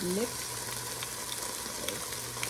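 Olive oil sizzles softly in a pan with diced yellow bell pepper, a faint steady frying hiss with a few small pops, and a short bit of talk at the start.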